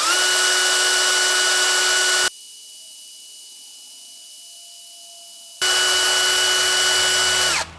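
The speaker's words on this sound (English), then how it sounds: "You get a bit more load on the drill when it finally starts pumping oil" A power drill turns the distributor shaft to prime the oil pump on a 1969 Jeep Gladiator pickup's engine. It whines with a steady tone, stops for a few seconds, then runs again before cutting off.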